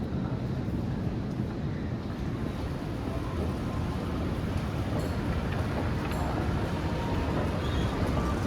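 An airport terminal tram heading to Terminal A rumbles along in a steady, moderately quiet low roar, with faint higher whines and rattles over the continuous ride noise.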